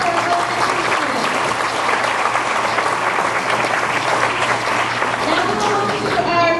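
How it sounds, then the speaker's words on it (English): A school board meeting audience gives elementary students a steady, full round of applause, dense clapping from a crowd that carries on without a break. "A round of applause for our elementary students."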